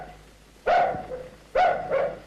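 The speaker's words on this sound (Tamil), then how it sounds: "எங்க தம்பி நாய் தான் குலைக்குது" A dog gives two loud, close barks about a second apart, each trailing into a shorter yelp, with no talking over them.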